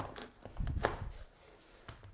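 Knife cutting a bell pepper on a cutting board, a few soft, quiet chops and slicing taps spread irregularly over two seconds.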